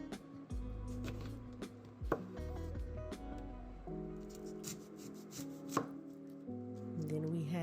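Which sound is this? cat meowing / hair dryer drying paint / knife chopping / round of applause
knife chopping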